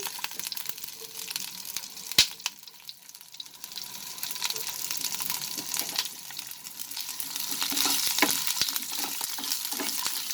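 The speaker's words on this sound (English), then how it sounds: "Now I'm going to add the chopped green chilies and onion to this, cubed onion." Chopped green chilies and cubed onion fry in a pan, giving a steady, close sizzle with stirring scrapes and a brief sharp clink early on, with no talking.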